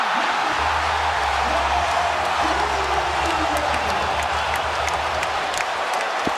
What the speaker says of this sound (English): That brought the crowd to their feet.